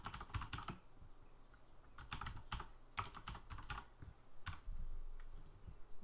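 Someone types in quick bursts of clicky keystrokes on a computer keyboard while coding, with short pauses between flurries and no talking.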